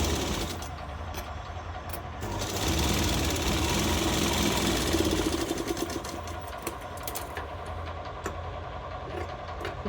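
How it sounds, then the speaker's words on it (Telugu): Sewing machine stitching the sleeve of a lined blouse, a continuous close mechanical whirr with steady rhythm that swells slightly in the middle and runs throughout. "చూడండి ఫ్రెండ్స్ ఎలా కుడుతున్నాను"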